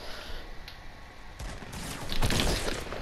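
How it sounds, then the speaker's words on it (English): Burst of gunfire in the video game Fortnite, a quick volley of shots erupting midway and building louder toward the end over faint game ambience. "We're getting shot at."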